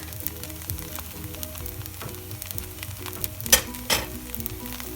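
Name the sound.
egg sizzling as it is added to chicken fried rice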